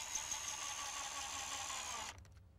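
Cedar gazebo parts being fastened with a power drill driving screws, a steady whining buzz that holds for about two seconds and then cuts off, quiet and close with no talking.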